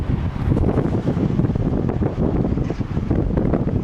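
Strong gusts of roughly 30 mph sweep across an open field where moss is being pushed up, with a loud, steady rumbling roar of wind buffeting the microphone and no one talking.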